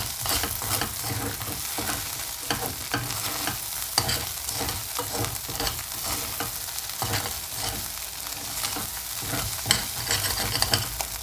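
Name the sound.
stirring fried rice frying in a pan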